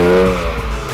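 BMW cars skidding around a wet skid pan, tyres squealing in a loud sustained screech over engine drone, close by with no talking.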